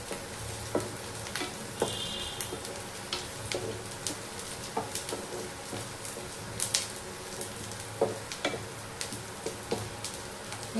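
Garlic and spices frying in a pan, a soft continuous sizzle with scattered small pops and ticks, quiet and close, no voices.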